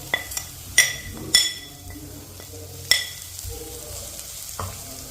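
Coriander powder stirred into a sizzling mussel roast in a pan, a soft frying hiss under sharp clinks and scrapes of a spoon against the pan, several distinct knocks spread unevenly across the moment.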